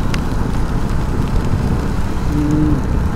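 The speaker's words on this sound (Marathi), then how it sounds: "अजूनपर्यंत पाऊस तर चालूच आहे" Rain falls steadily during a motorbike ride near Kharghar, a constant close wash of hiss and low rumble from wind and the moving bike.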